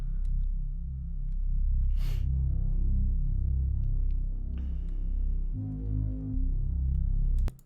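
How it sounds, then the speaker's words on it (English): Deep sub bass made with a Serum adapt bank wave preset layered with the default Sawyer preset, for a dark ethnic sample. It plays as a loud, sustained low rumble with shifting notes and a few faint clicks above. "I used the adapt serum bank for this one on the wave preset and layered that with the default Sawyer preset"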